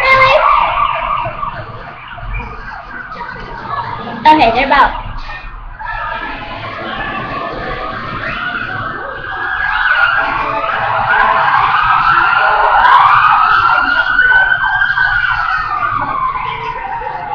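A wailing ambulance siren rises and falls as it passes close by over traffic noise, with a brief spoken remark near the start.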